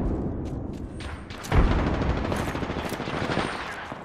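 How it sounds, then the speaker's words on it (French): A frag grenade exploding in Apex Legends: one heavy, close thump of a blast amid ongoing rattling gunfire and in-game combat noise, fairly loud and with no talking over it. "Grenade frag lancée."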